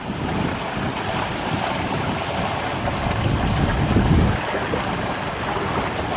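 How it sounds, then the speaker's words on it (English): A small sailing dinghy surfs down waves, giving a loud, steady rush of water and wind buffeting the microphone, swelling to a stronger surge near the end. "Our dinghy is surfing down these waves."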